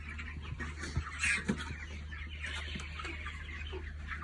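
Chickens on a poultry farm clucking faintly, with scattered soft clucks and a few brief louder calls early on, over a low steady background hum.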